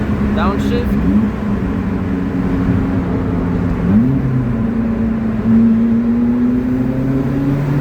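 Lotus Elise engine in a Swiss road tunnel after a downshift, a steady droning hum with rising pitch sweeps as revs climb, reverberant and continuous, while a voice talks over it.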